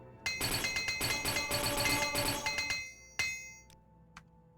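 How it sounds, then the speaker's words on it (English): Repeated metallic hammer strikes from a repair hammer in the video game Morrowind, a rapid run of clinking, ringing blows followed by a single louder hit and a couple of fainter taps, heard alone. "Just immediately use this repair hammer."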